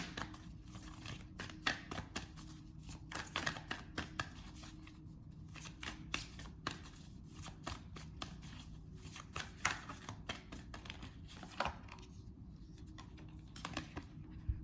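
A Moonology oracle card deck is shuffled continuously and quietly, with rapid soft riffling and light clicking taps against a steady low background hum.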